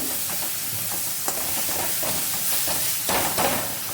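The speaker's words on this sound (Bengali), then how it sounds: "এবার ভালোভাবে মিশিয়ে নেব।" Mutton curry with yogurt is stirred in a pan over low heat, giving a soft, steady hiss and faint sizzle with a few light scraping touches.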